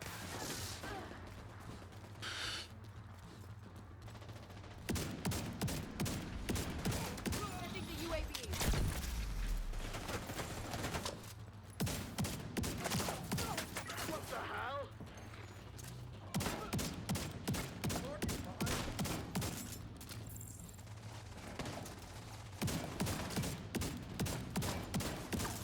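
Machine gun fire in The Division 2 rattles in rapid, dense bursts across the whole stretch, loud and continuous with only short pauses, while a voice talks over it at times.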